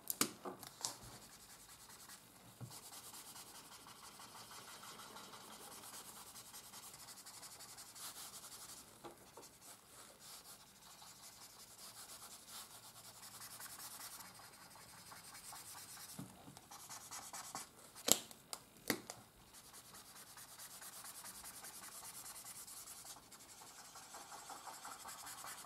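Alcohol markers rubbed across paper to blend blue into the lower parts of a cloudy sky drawing, a soft continuous scratchy rubbing with a few sharper strokes, close and quiet, no talking.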